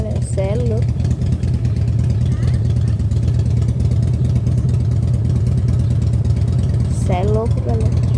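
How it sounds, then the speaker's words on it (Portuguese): A loud Harley-Davidson motorcycle idles with a deep, steady, throbbing rumble up close, while someone briefly talks over it near the start and again near the end. "Mó barulhento essa moto, não, galera. Harley Davidson, é uma Harley Davidson"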